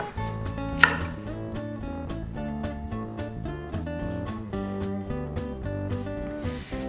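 A knife chops spring onion on a board in quick, even strikes, about two to three per second, close and crisp over soft background music.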